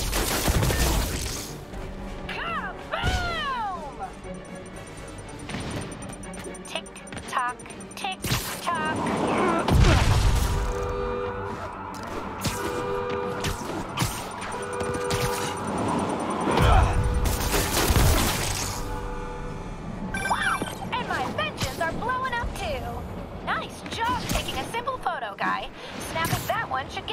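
Explosions from bombs going off in Spider-Man Remastered, a string of loud booms and crackling blasts with shattering debris, scattered through the stretch alongside game dialogue and crowd babble.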